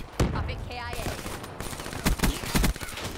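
A long-barrel shotgun fires in a video game, with repeated booming blasts and rapid bursts of in-game gunfire layered over busy battle noise.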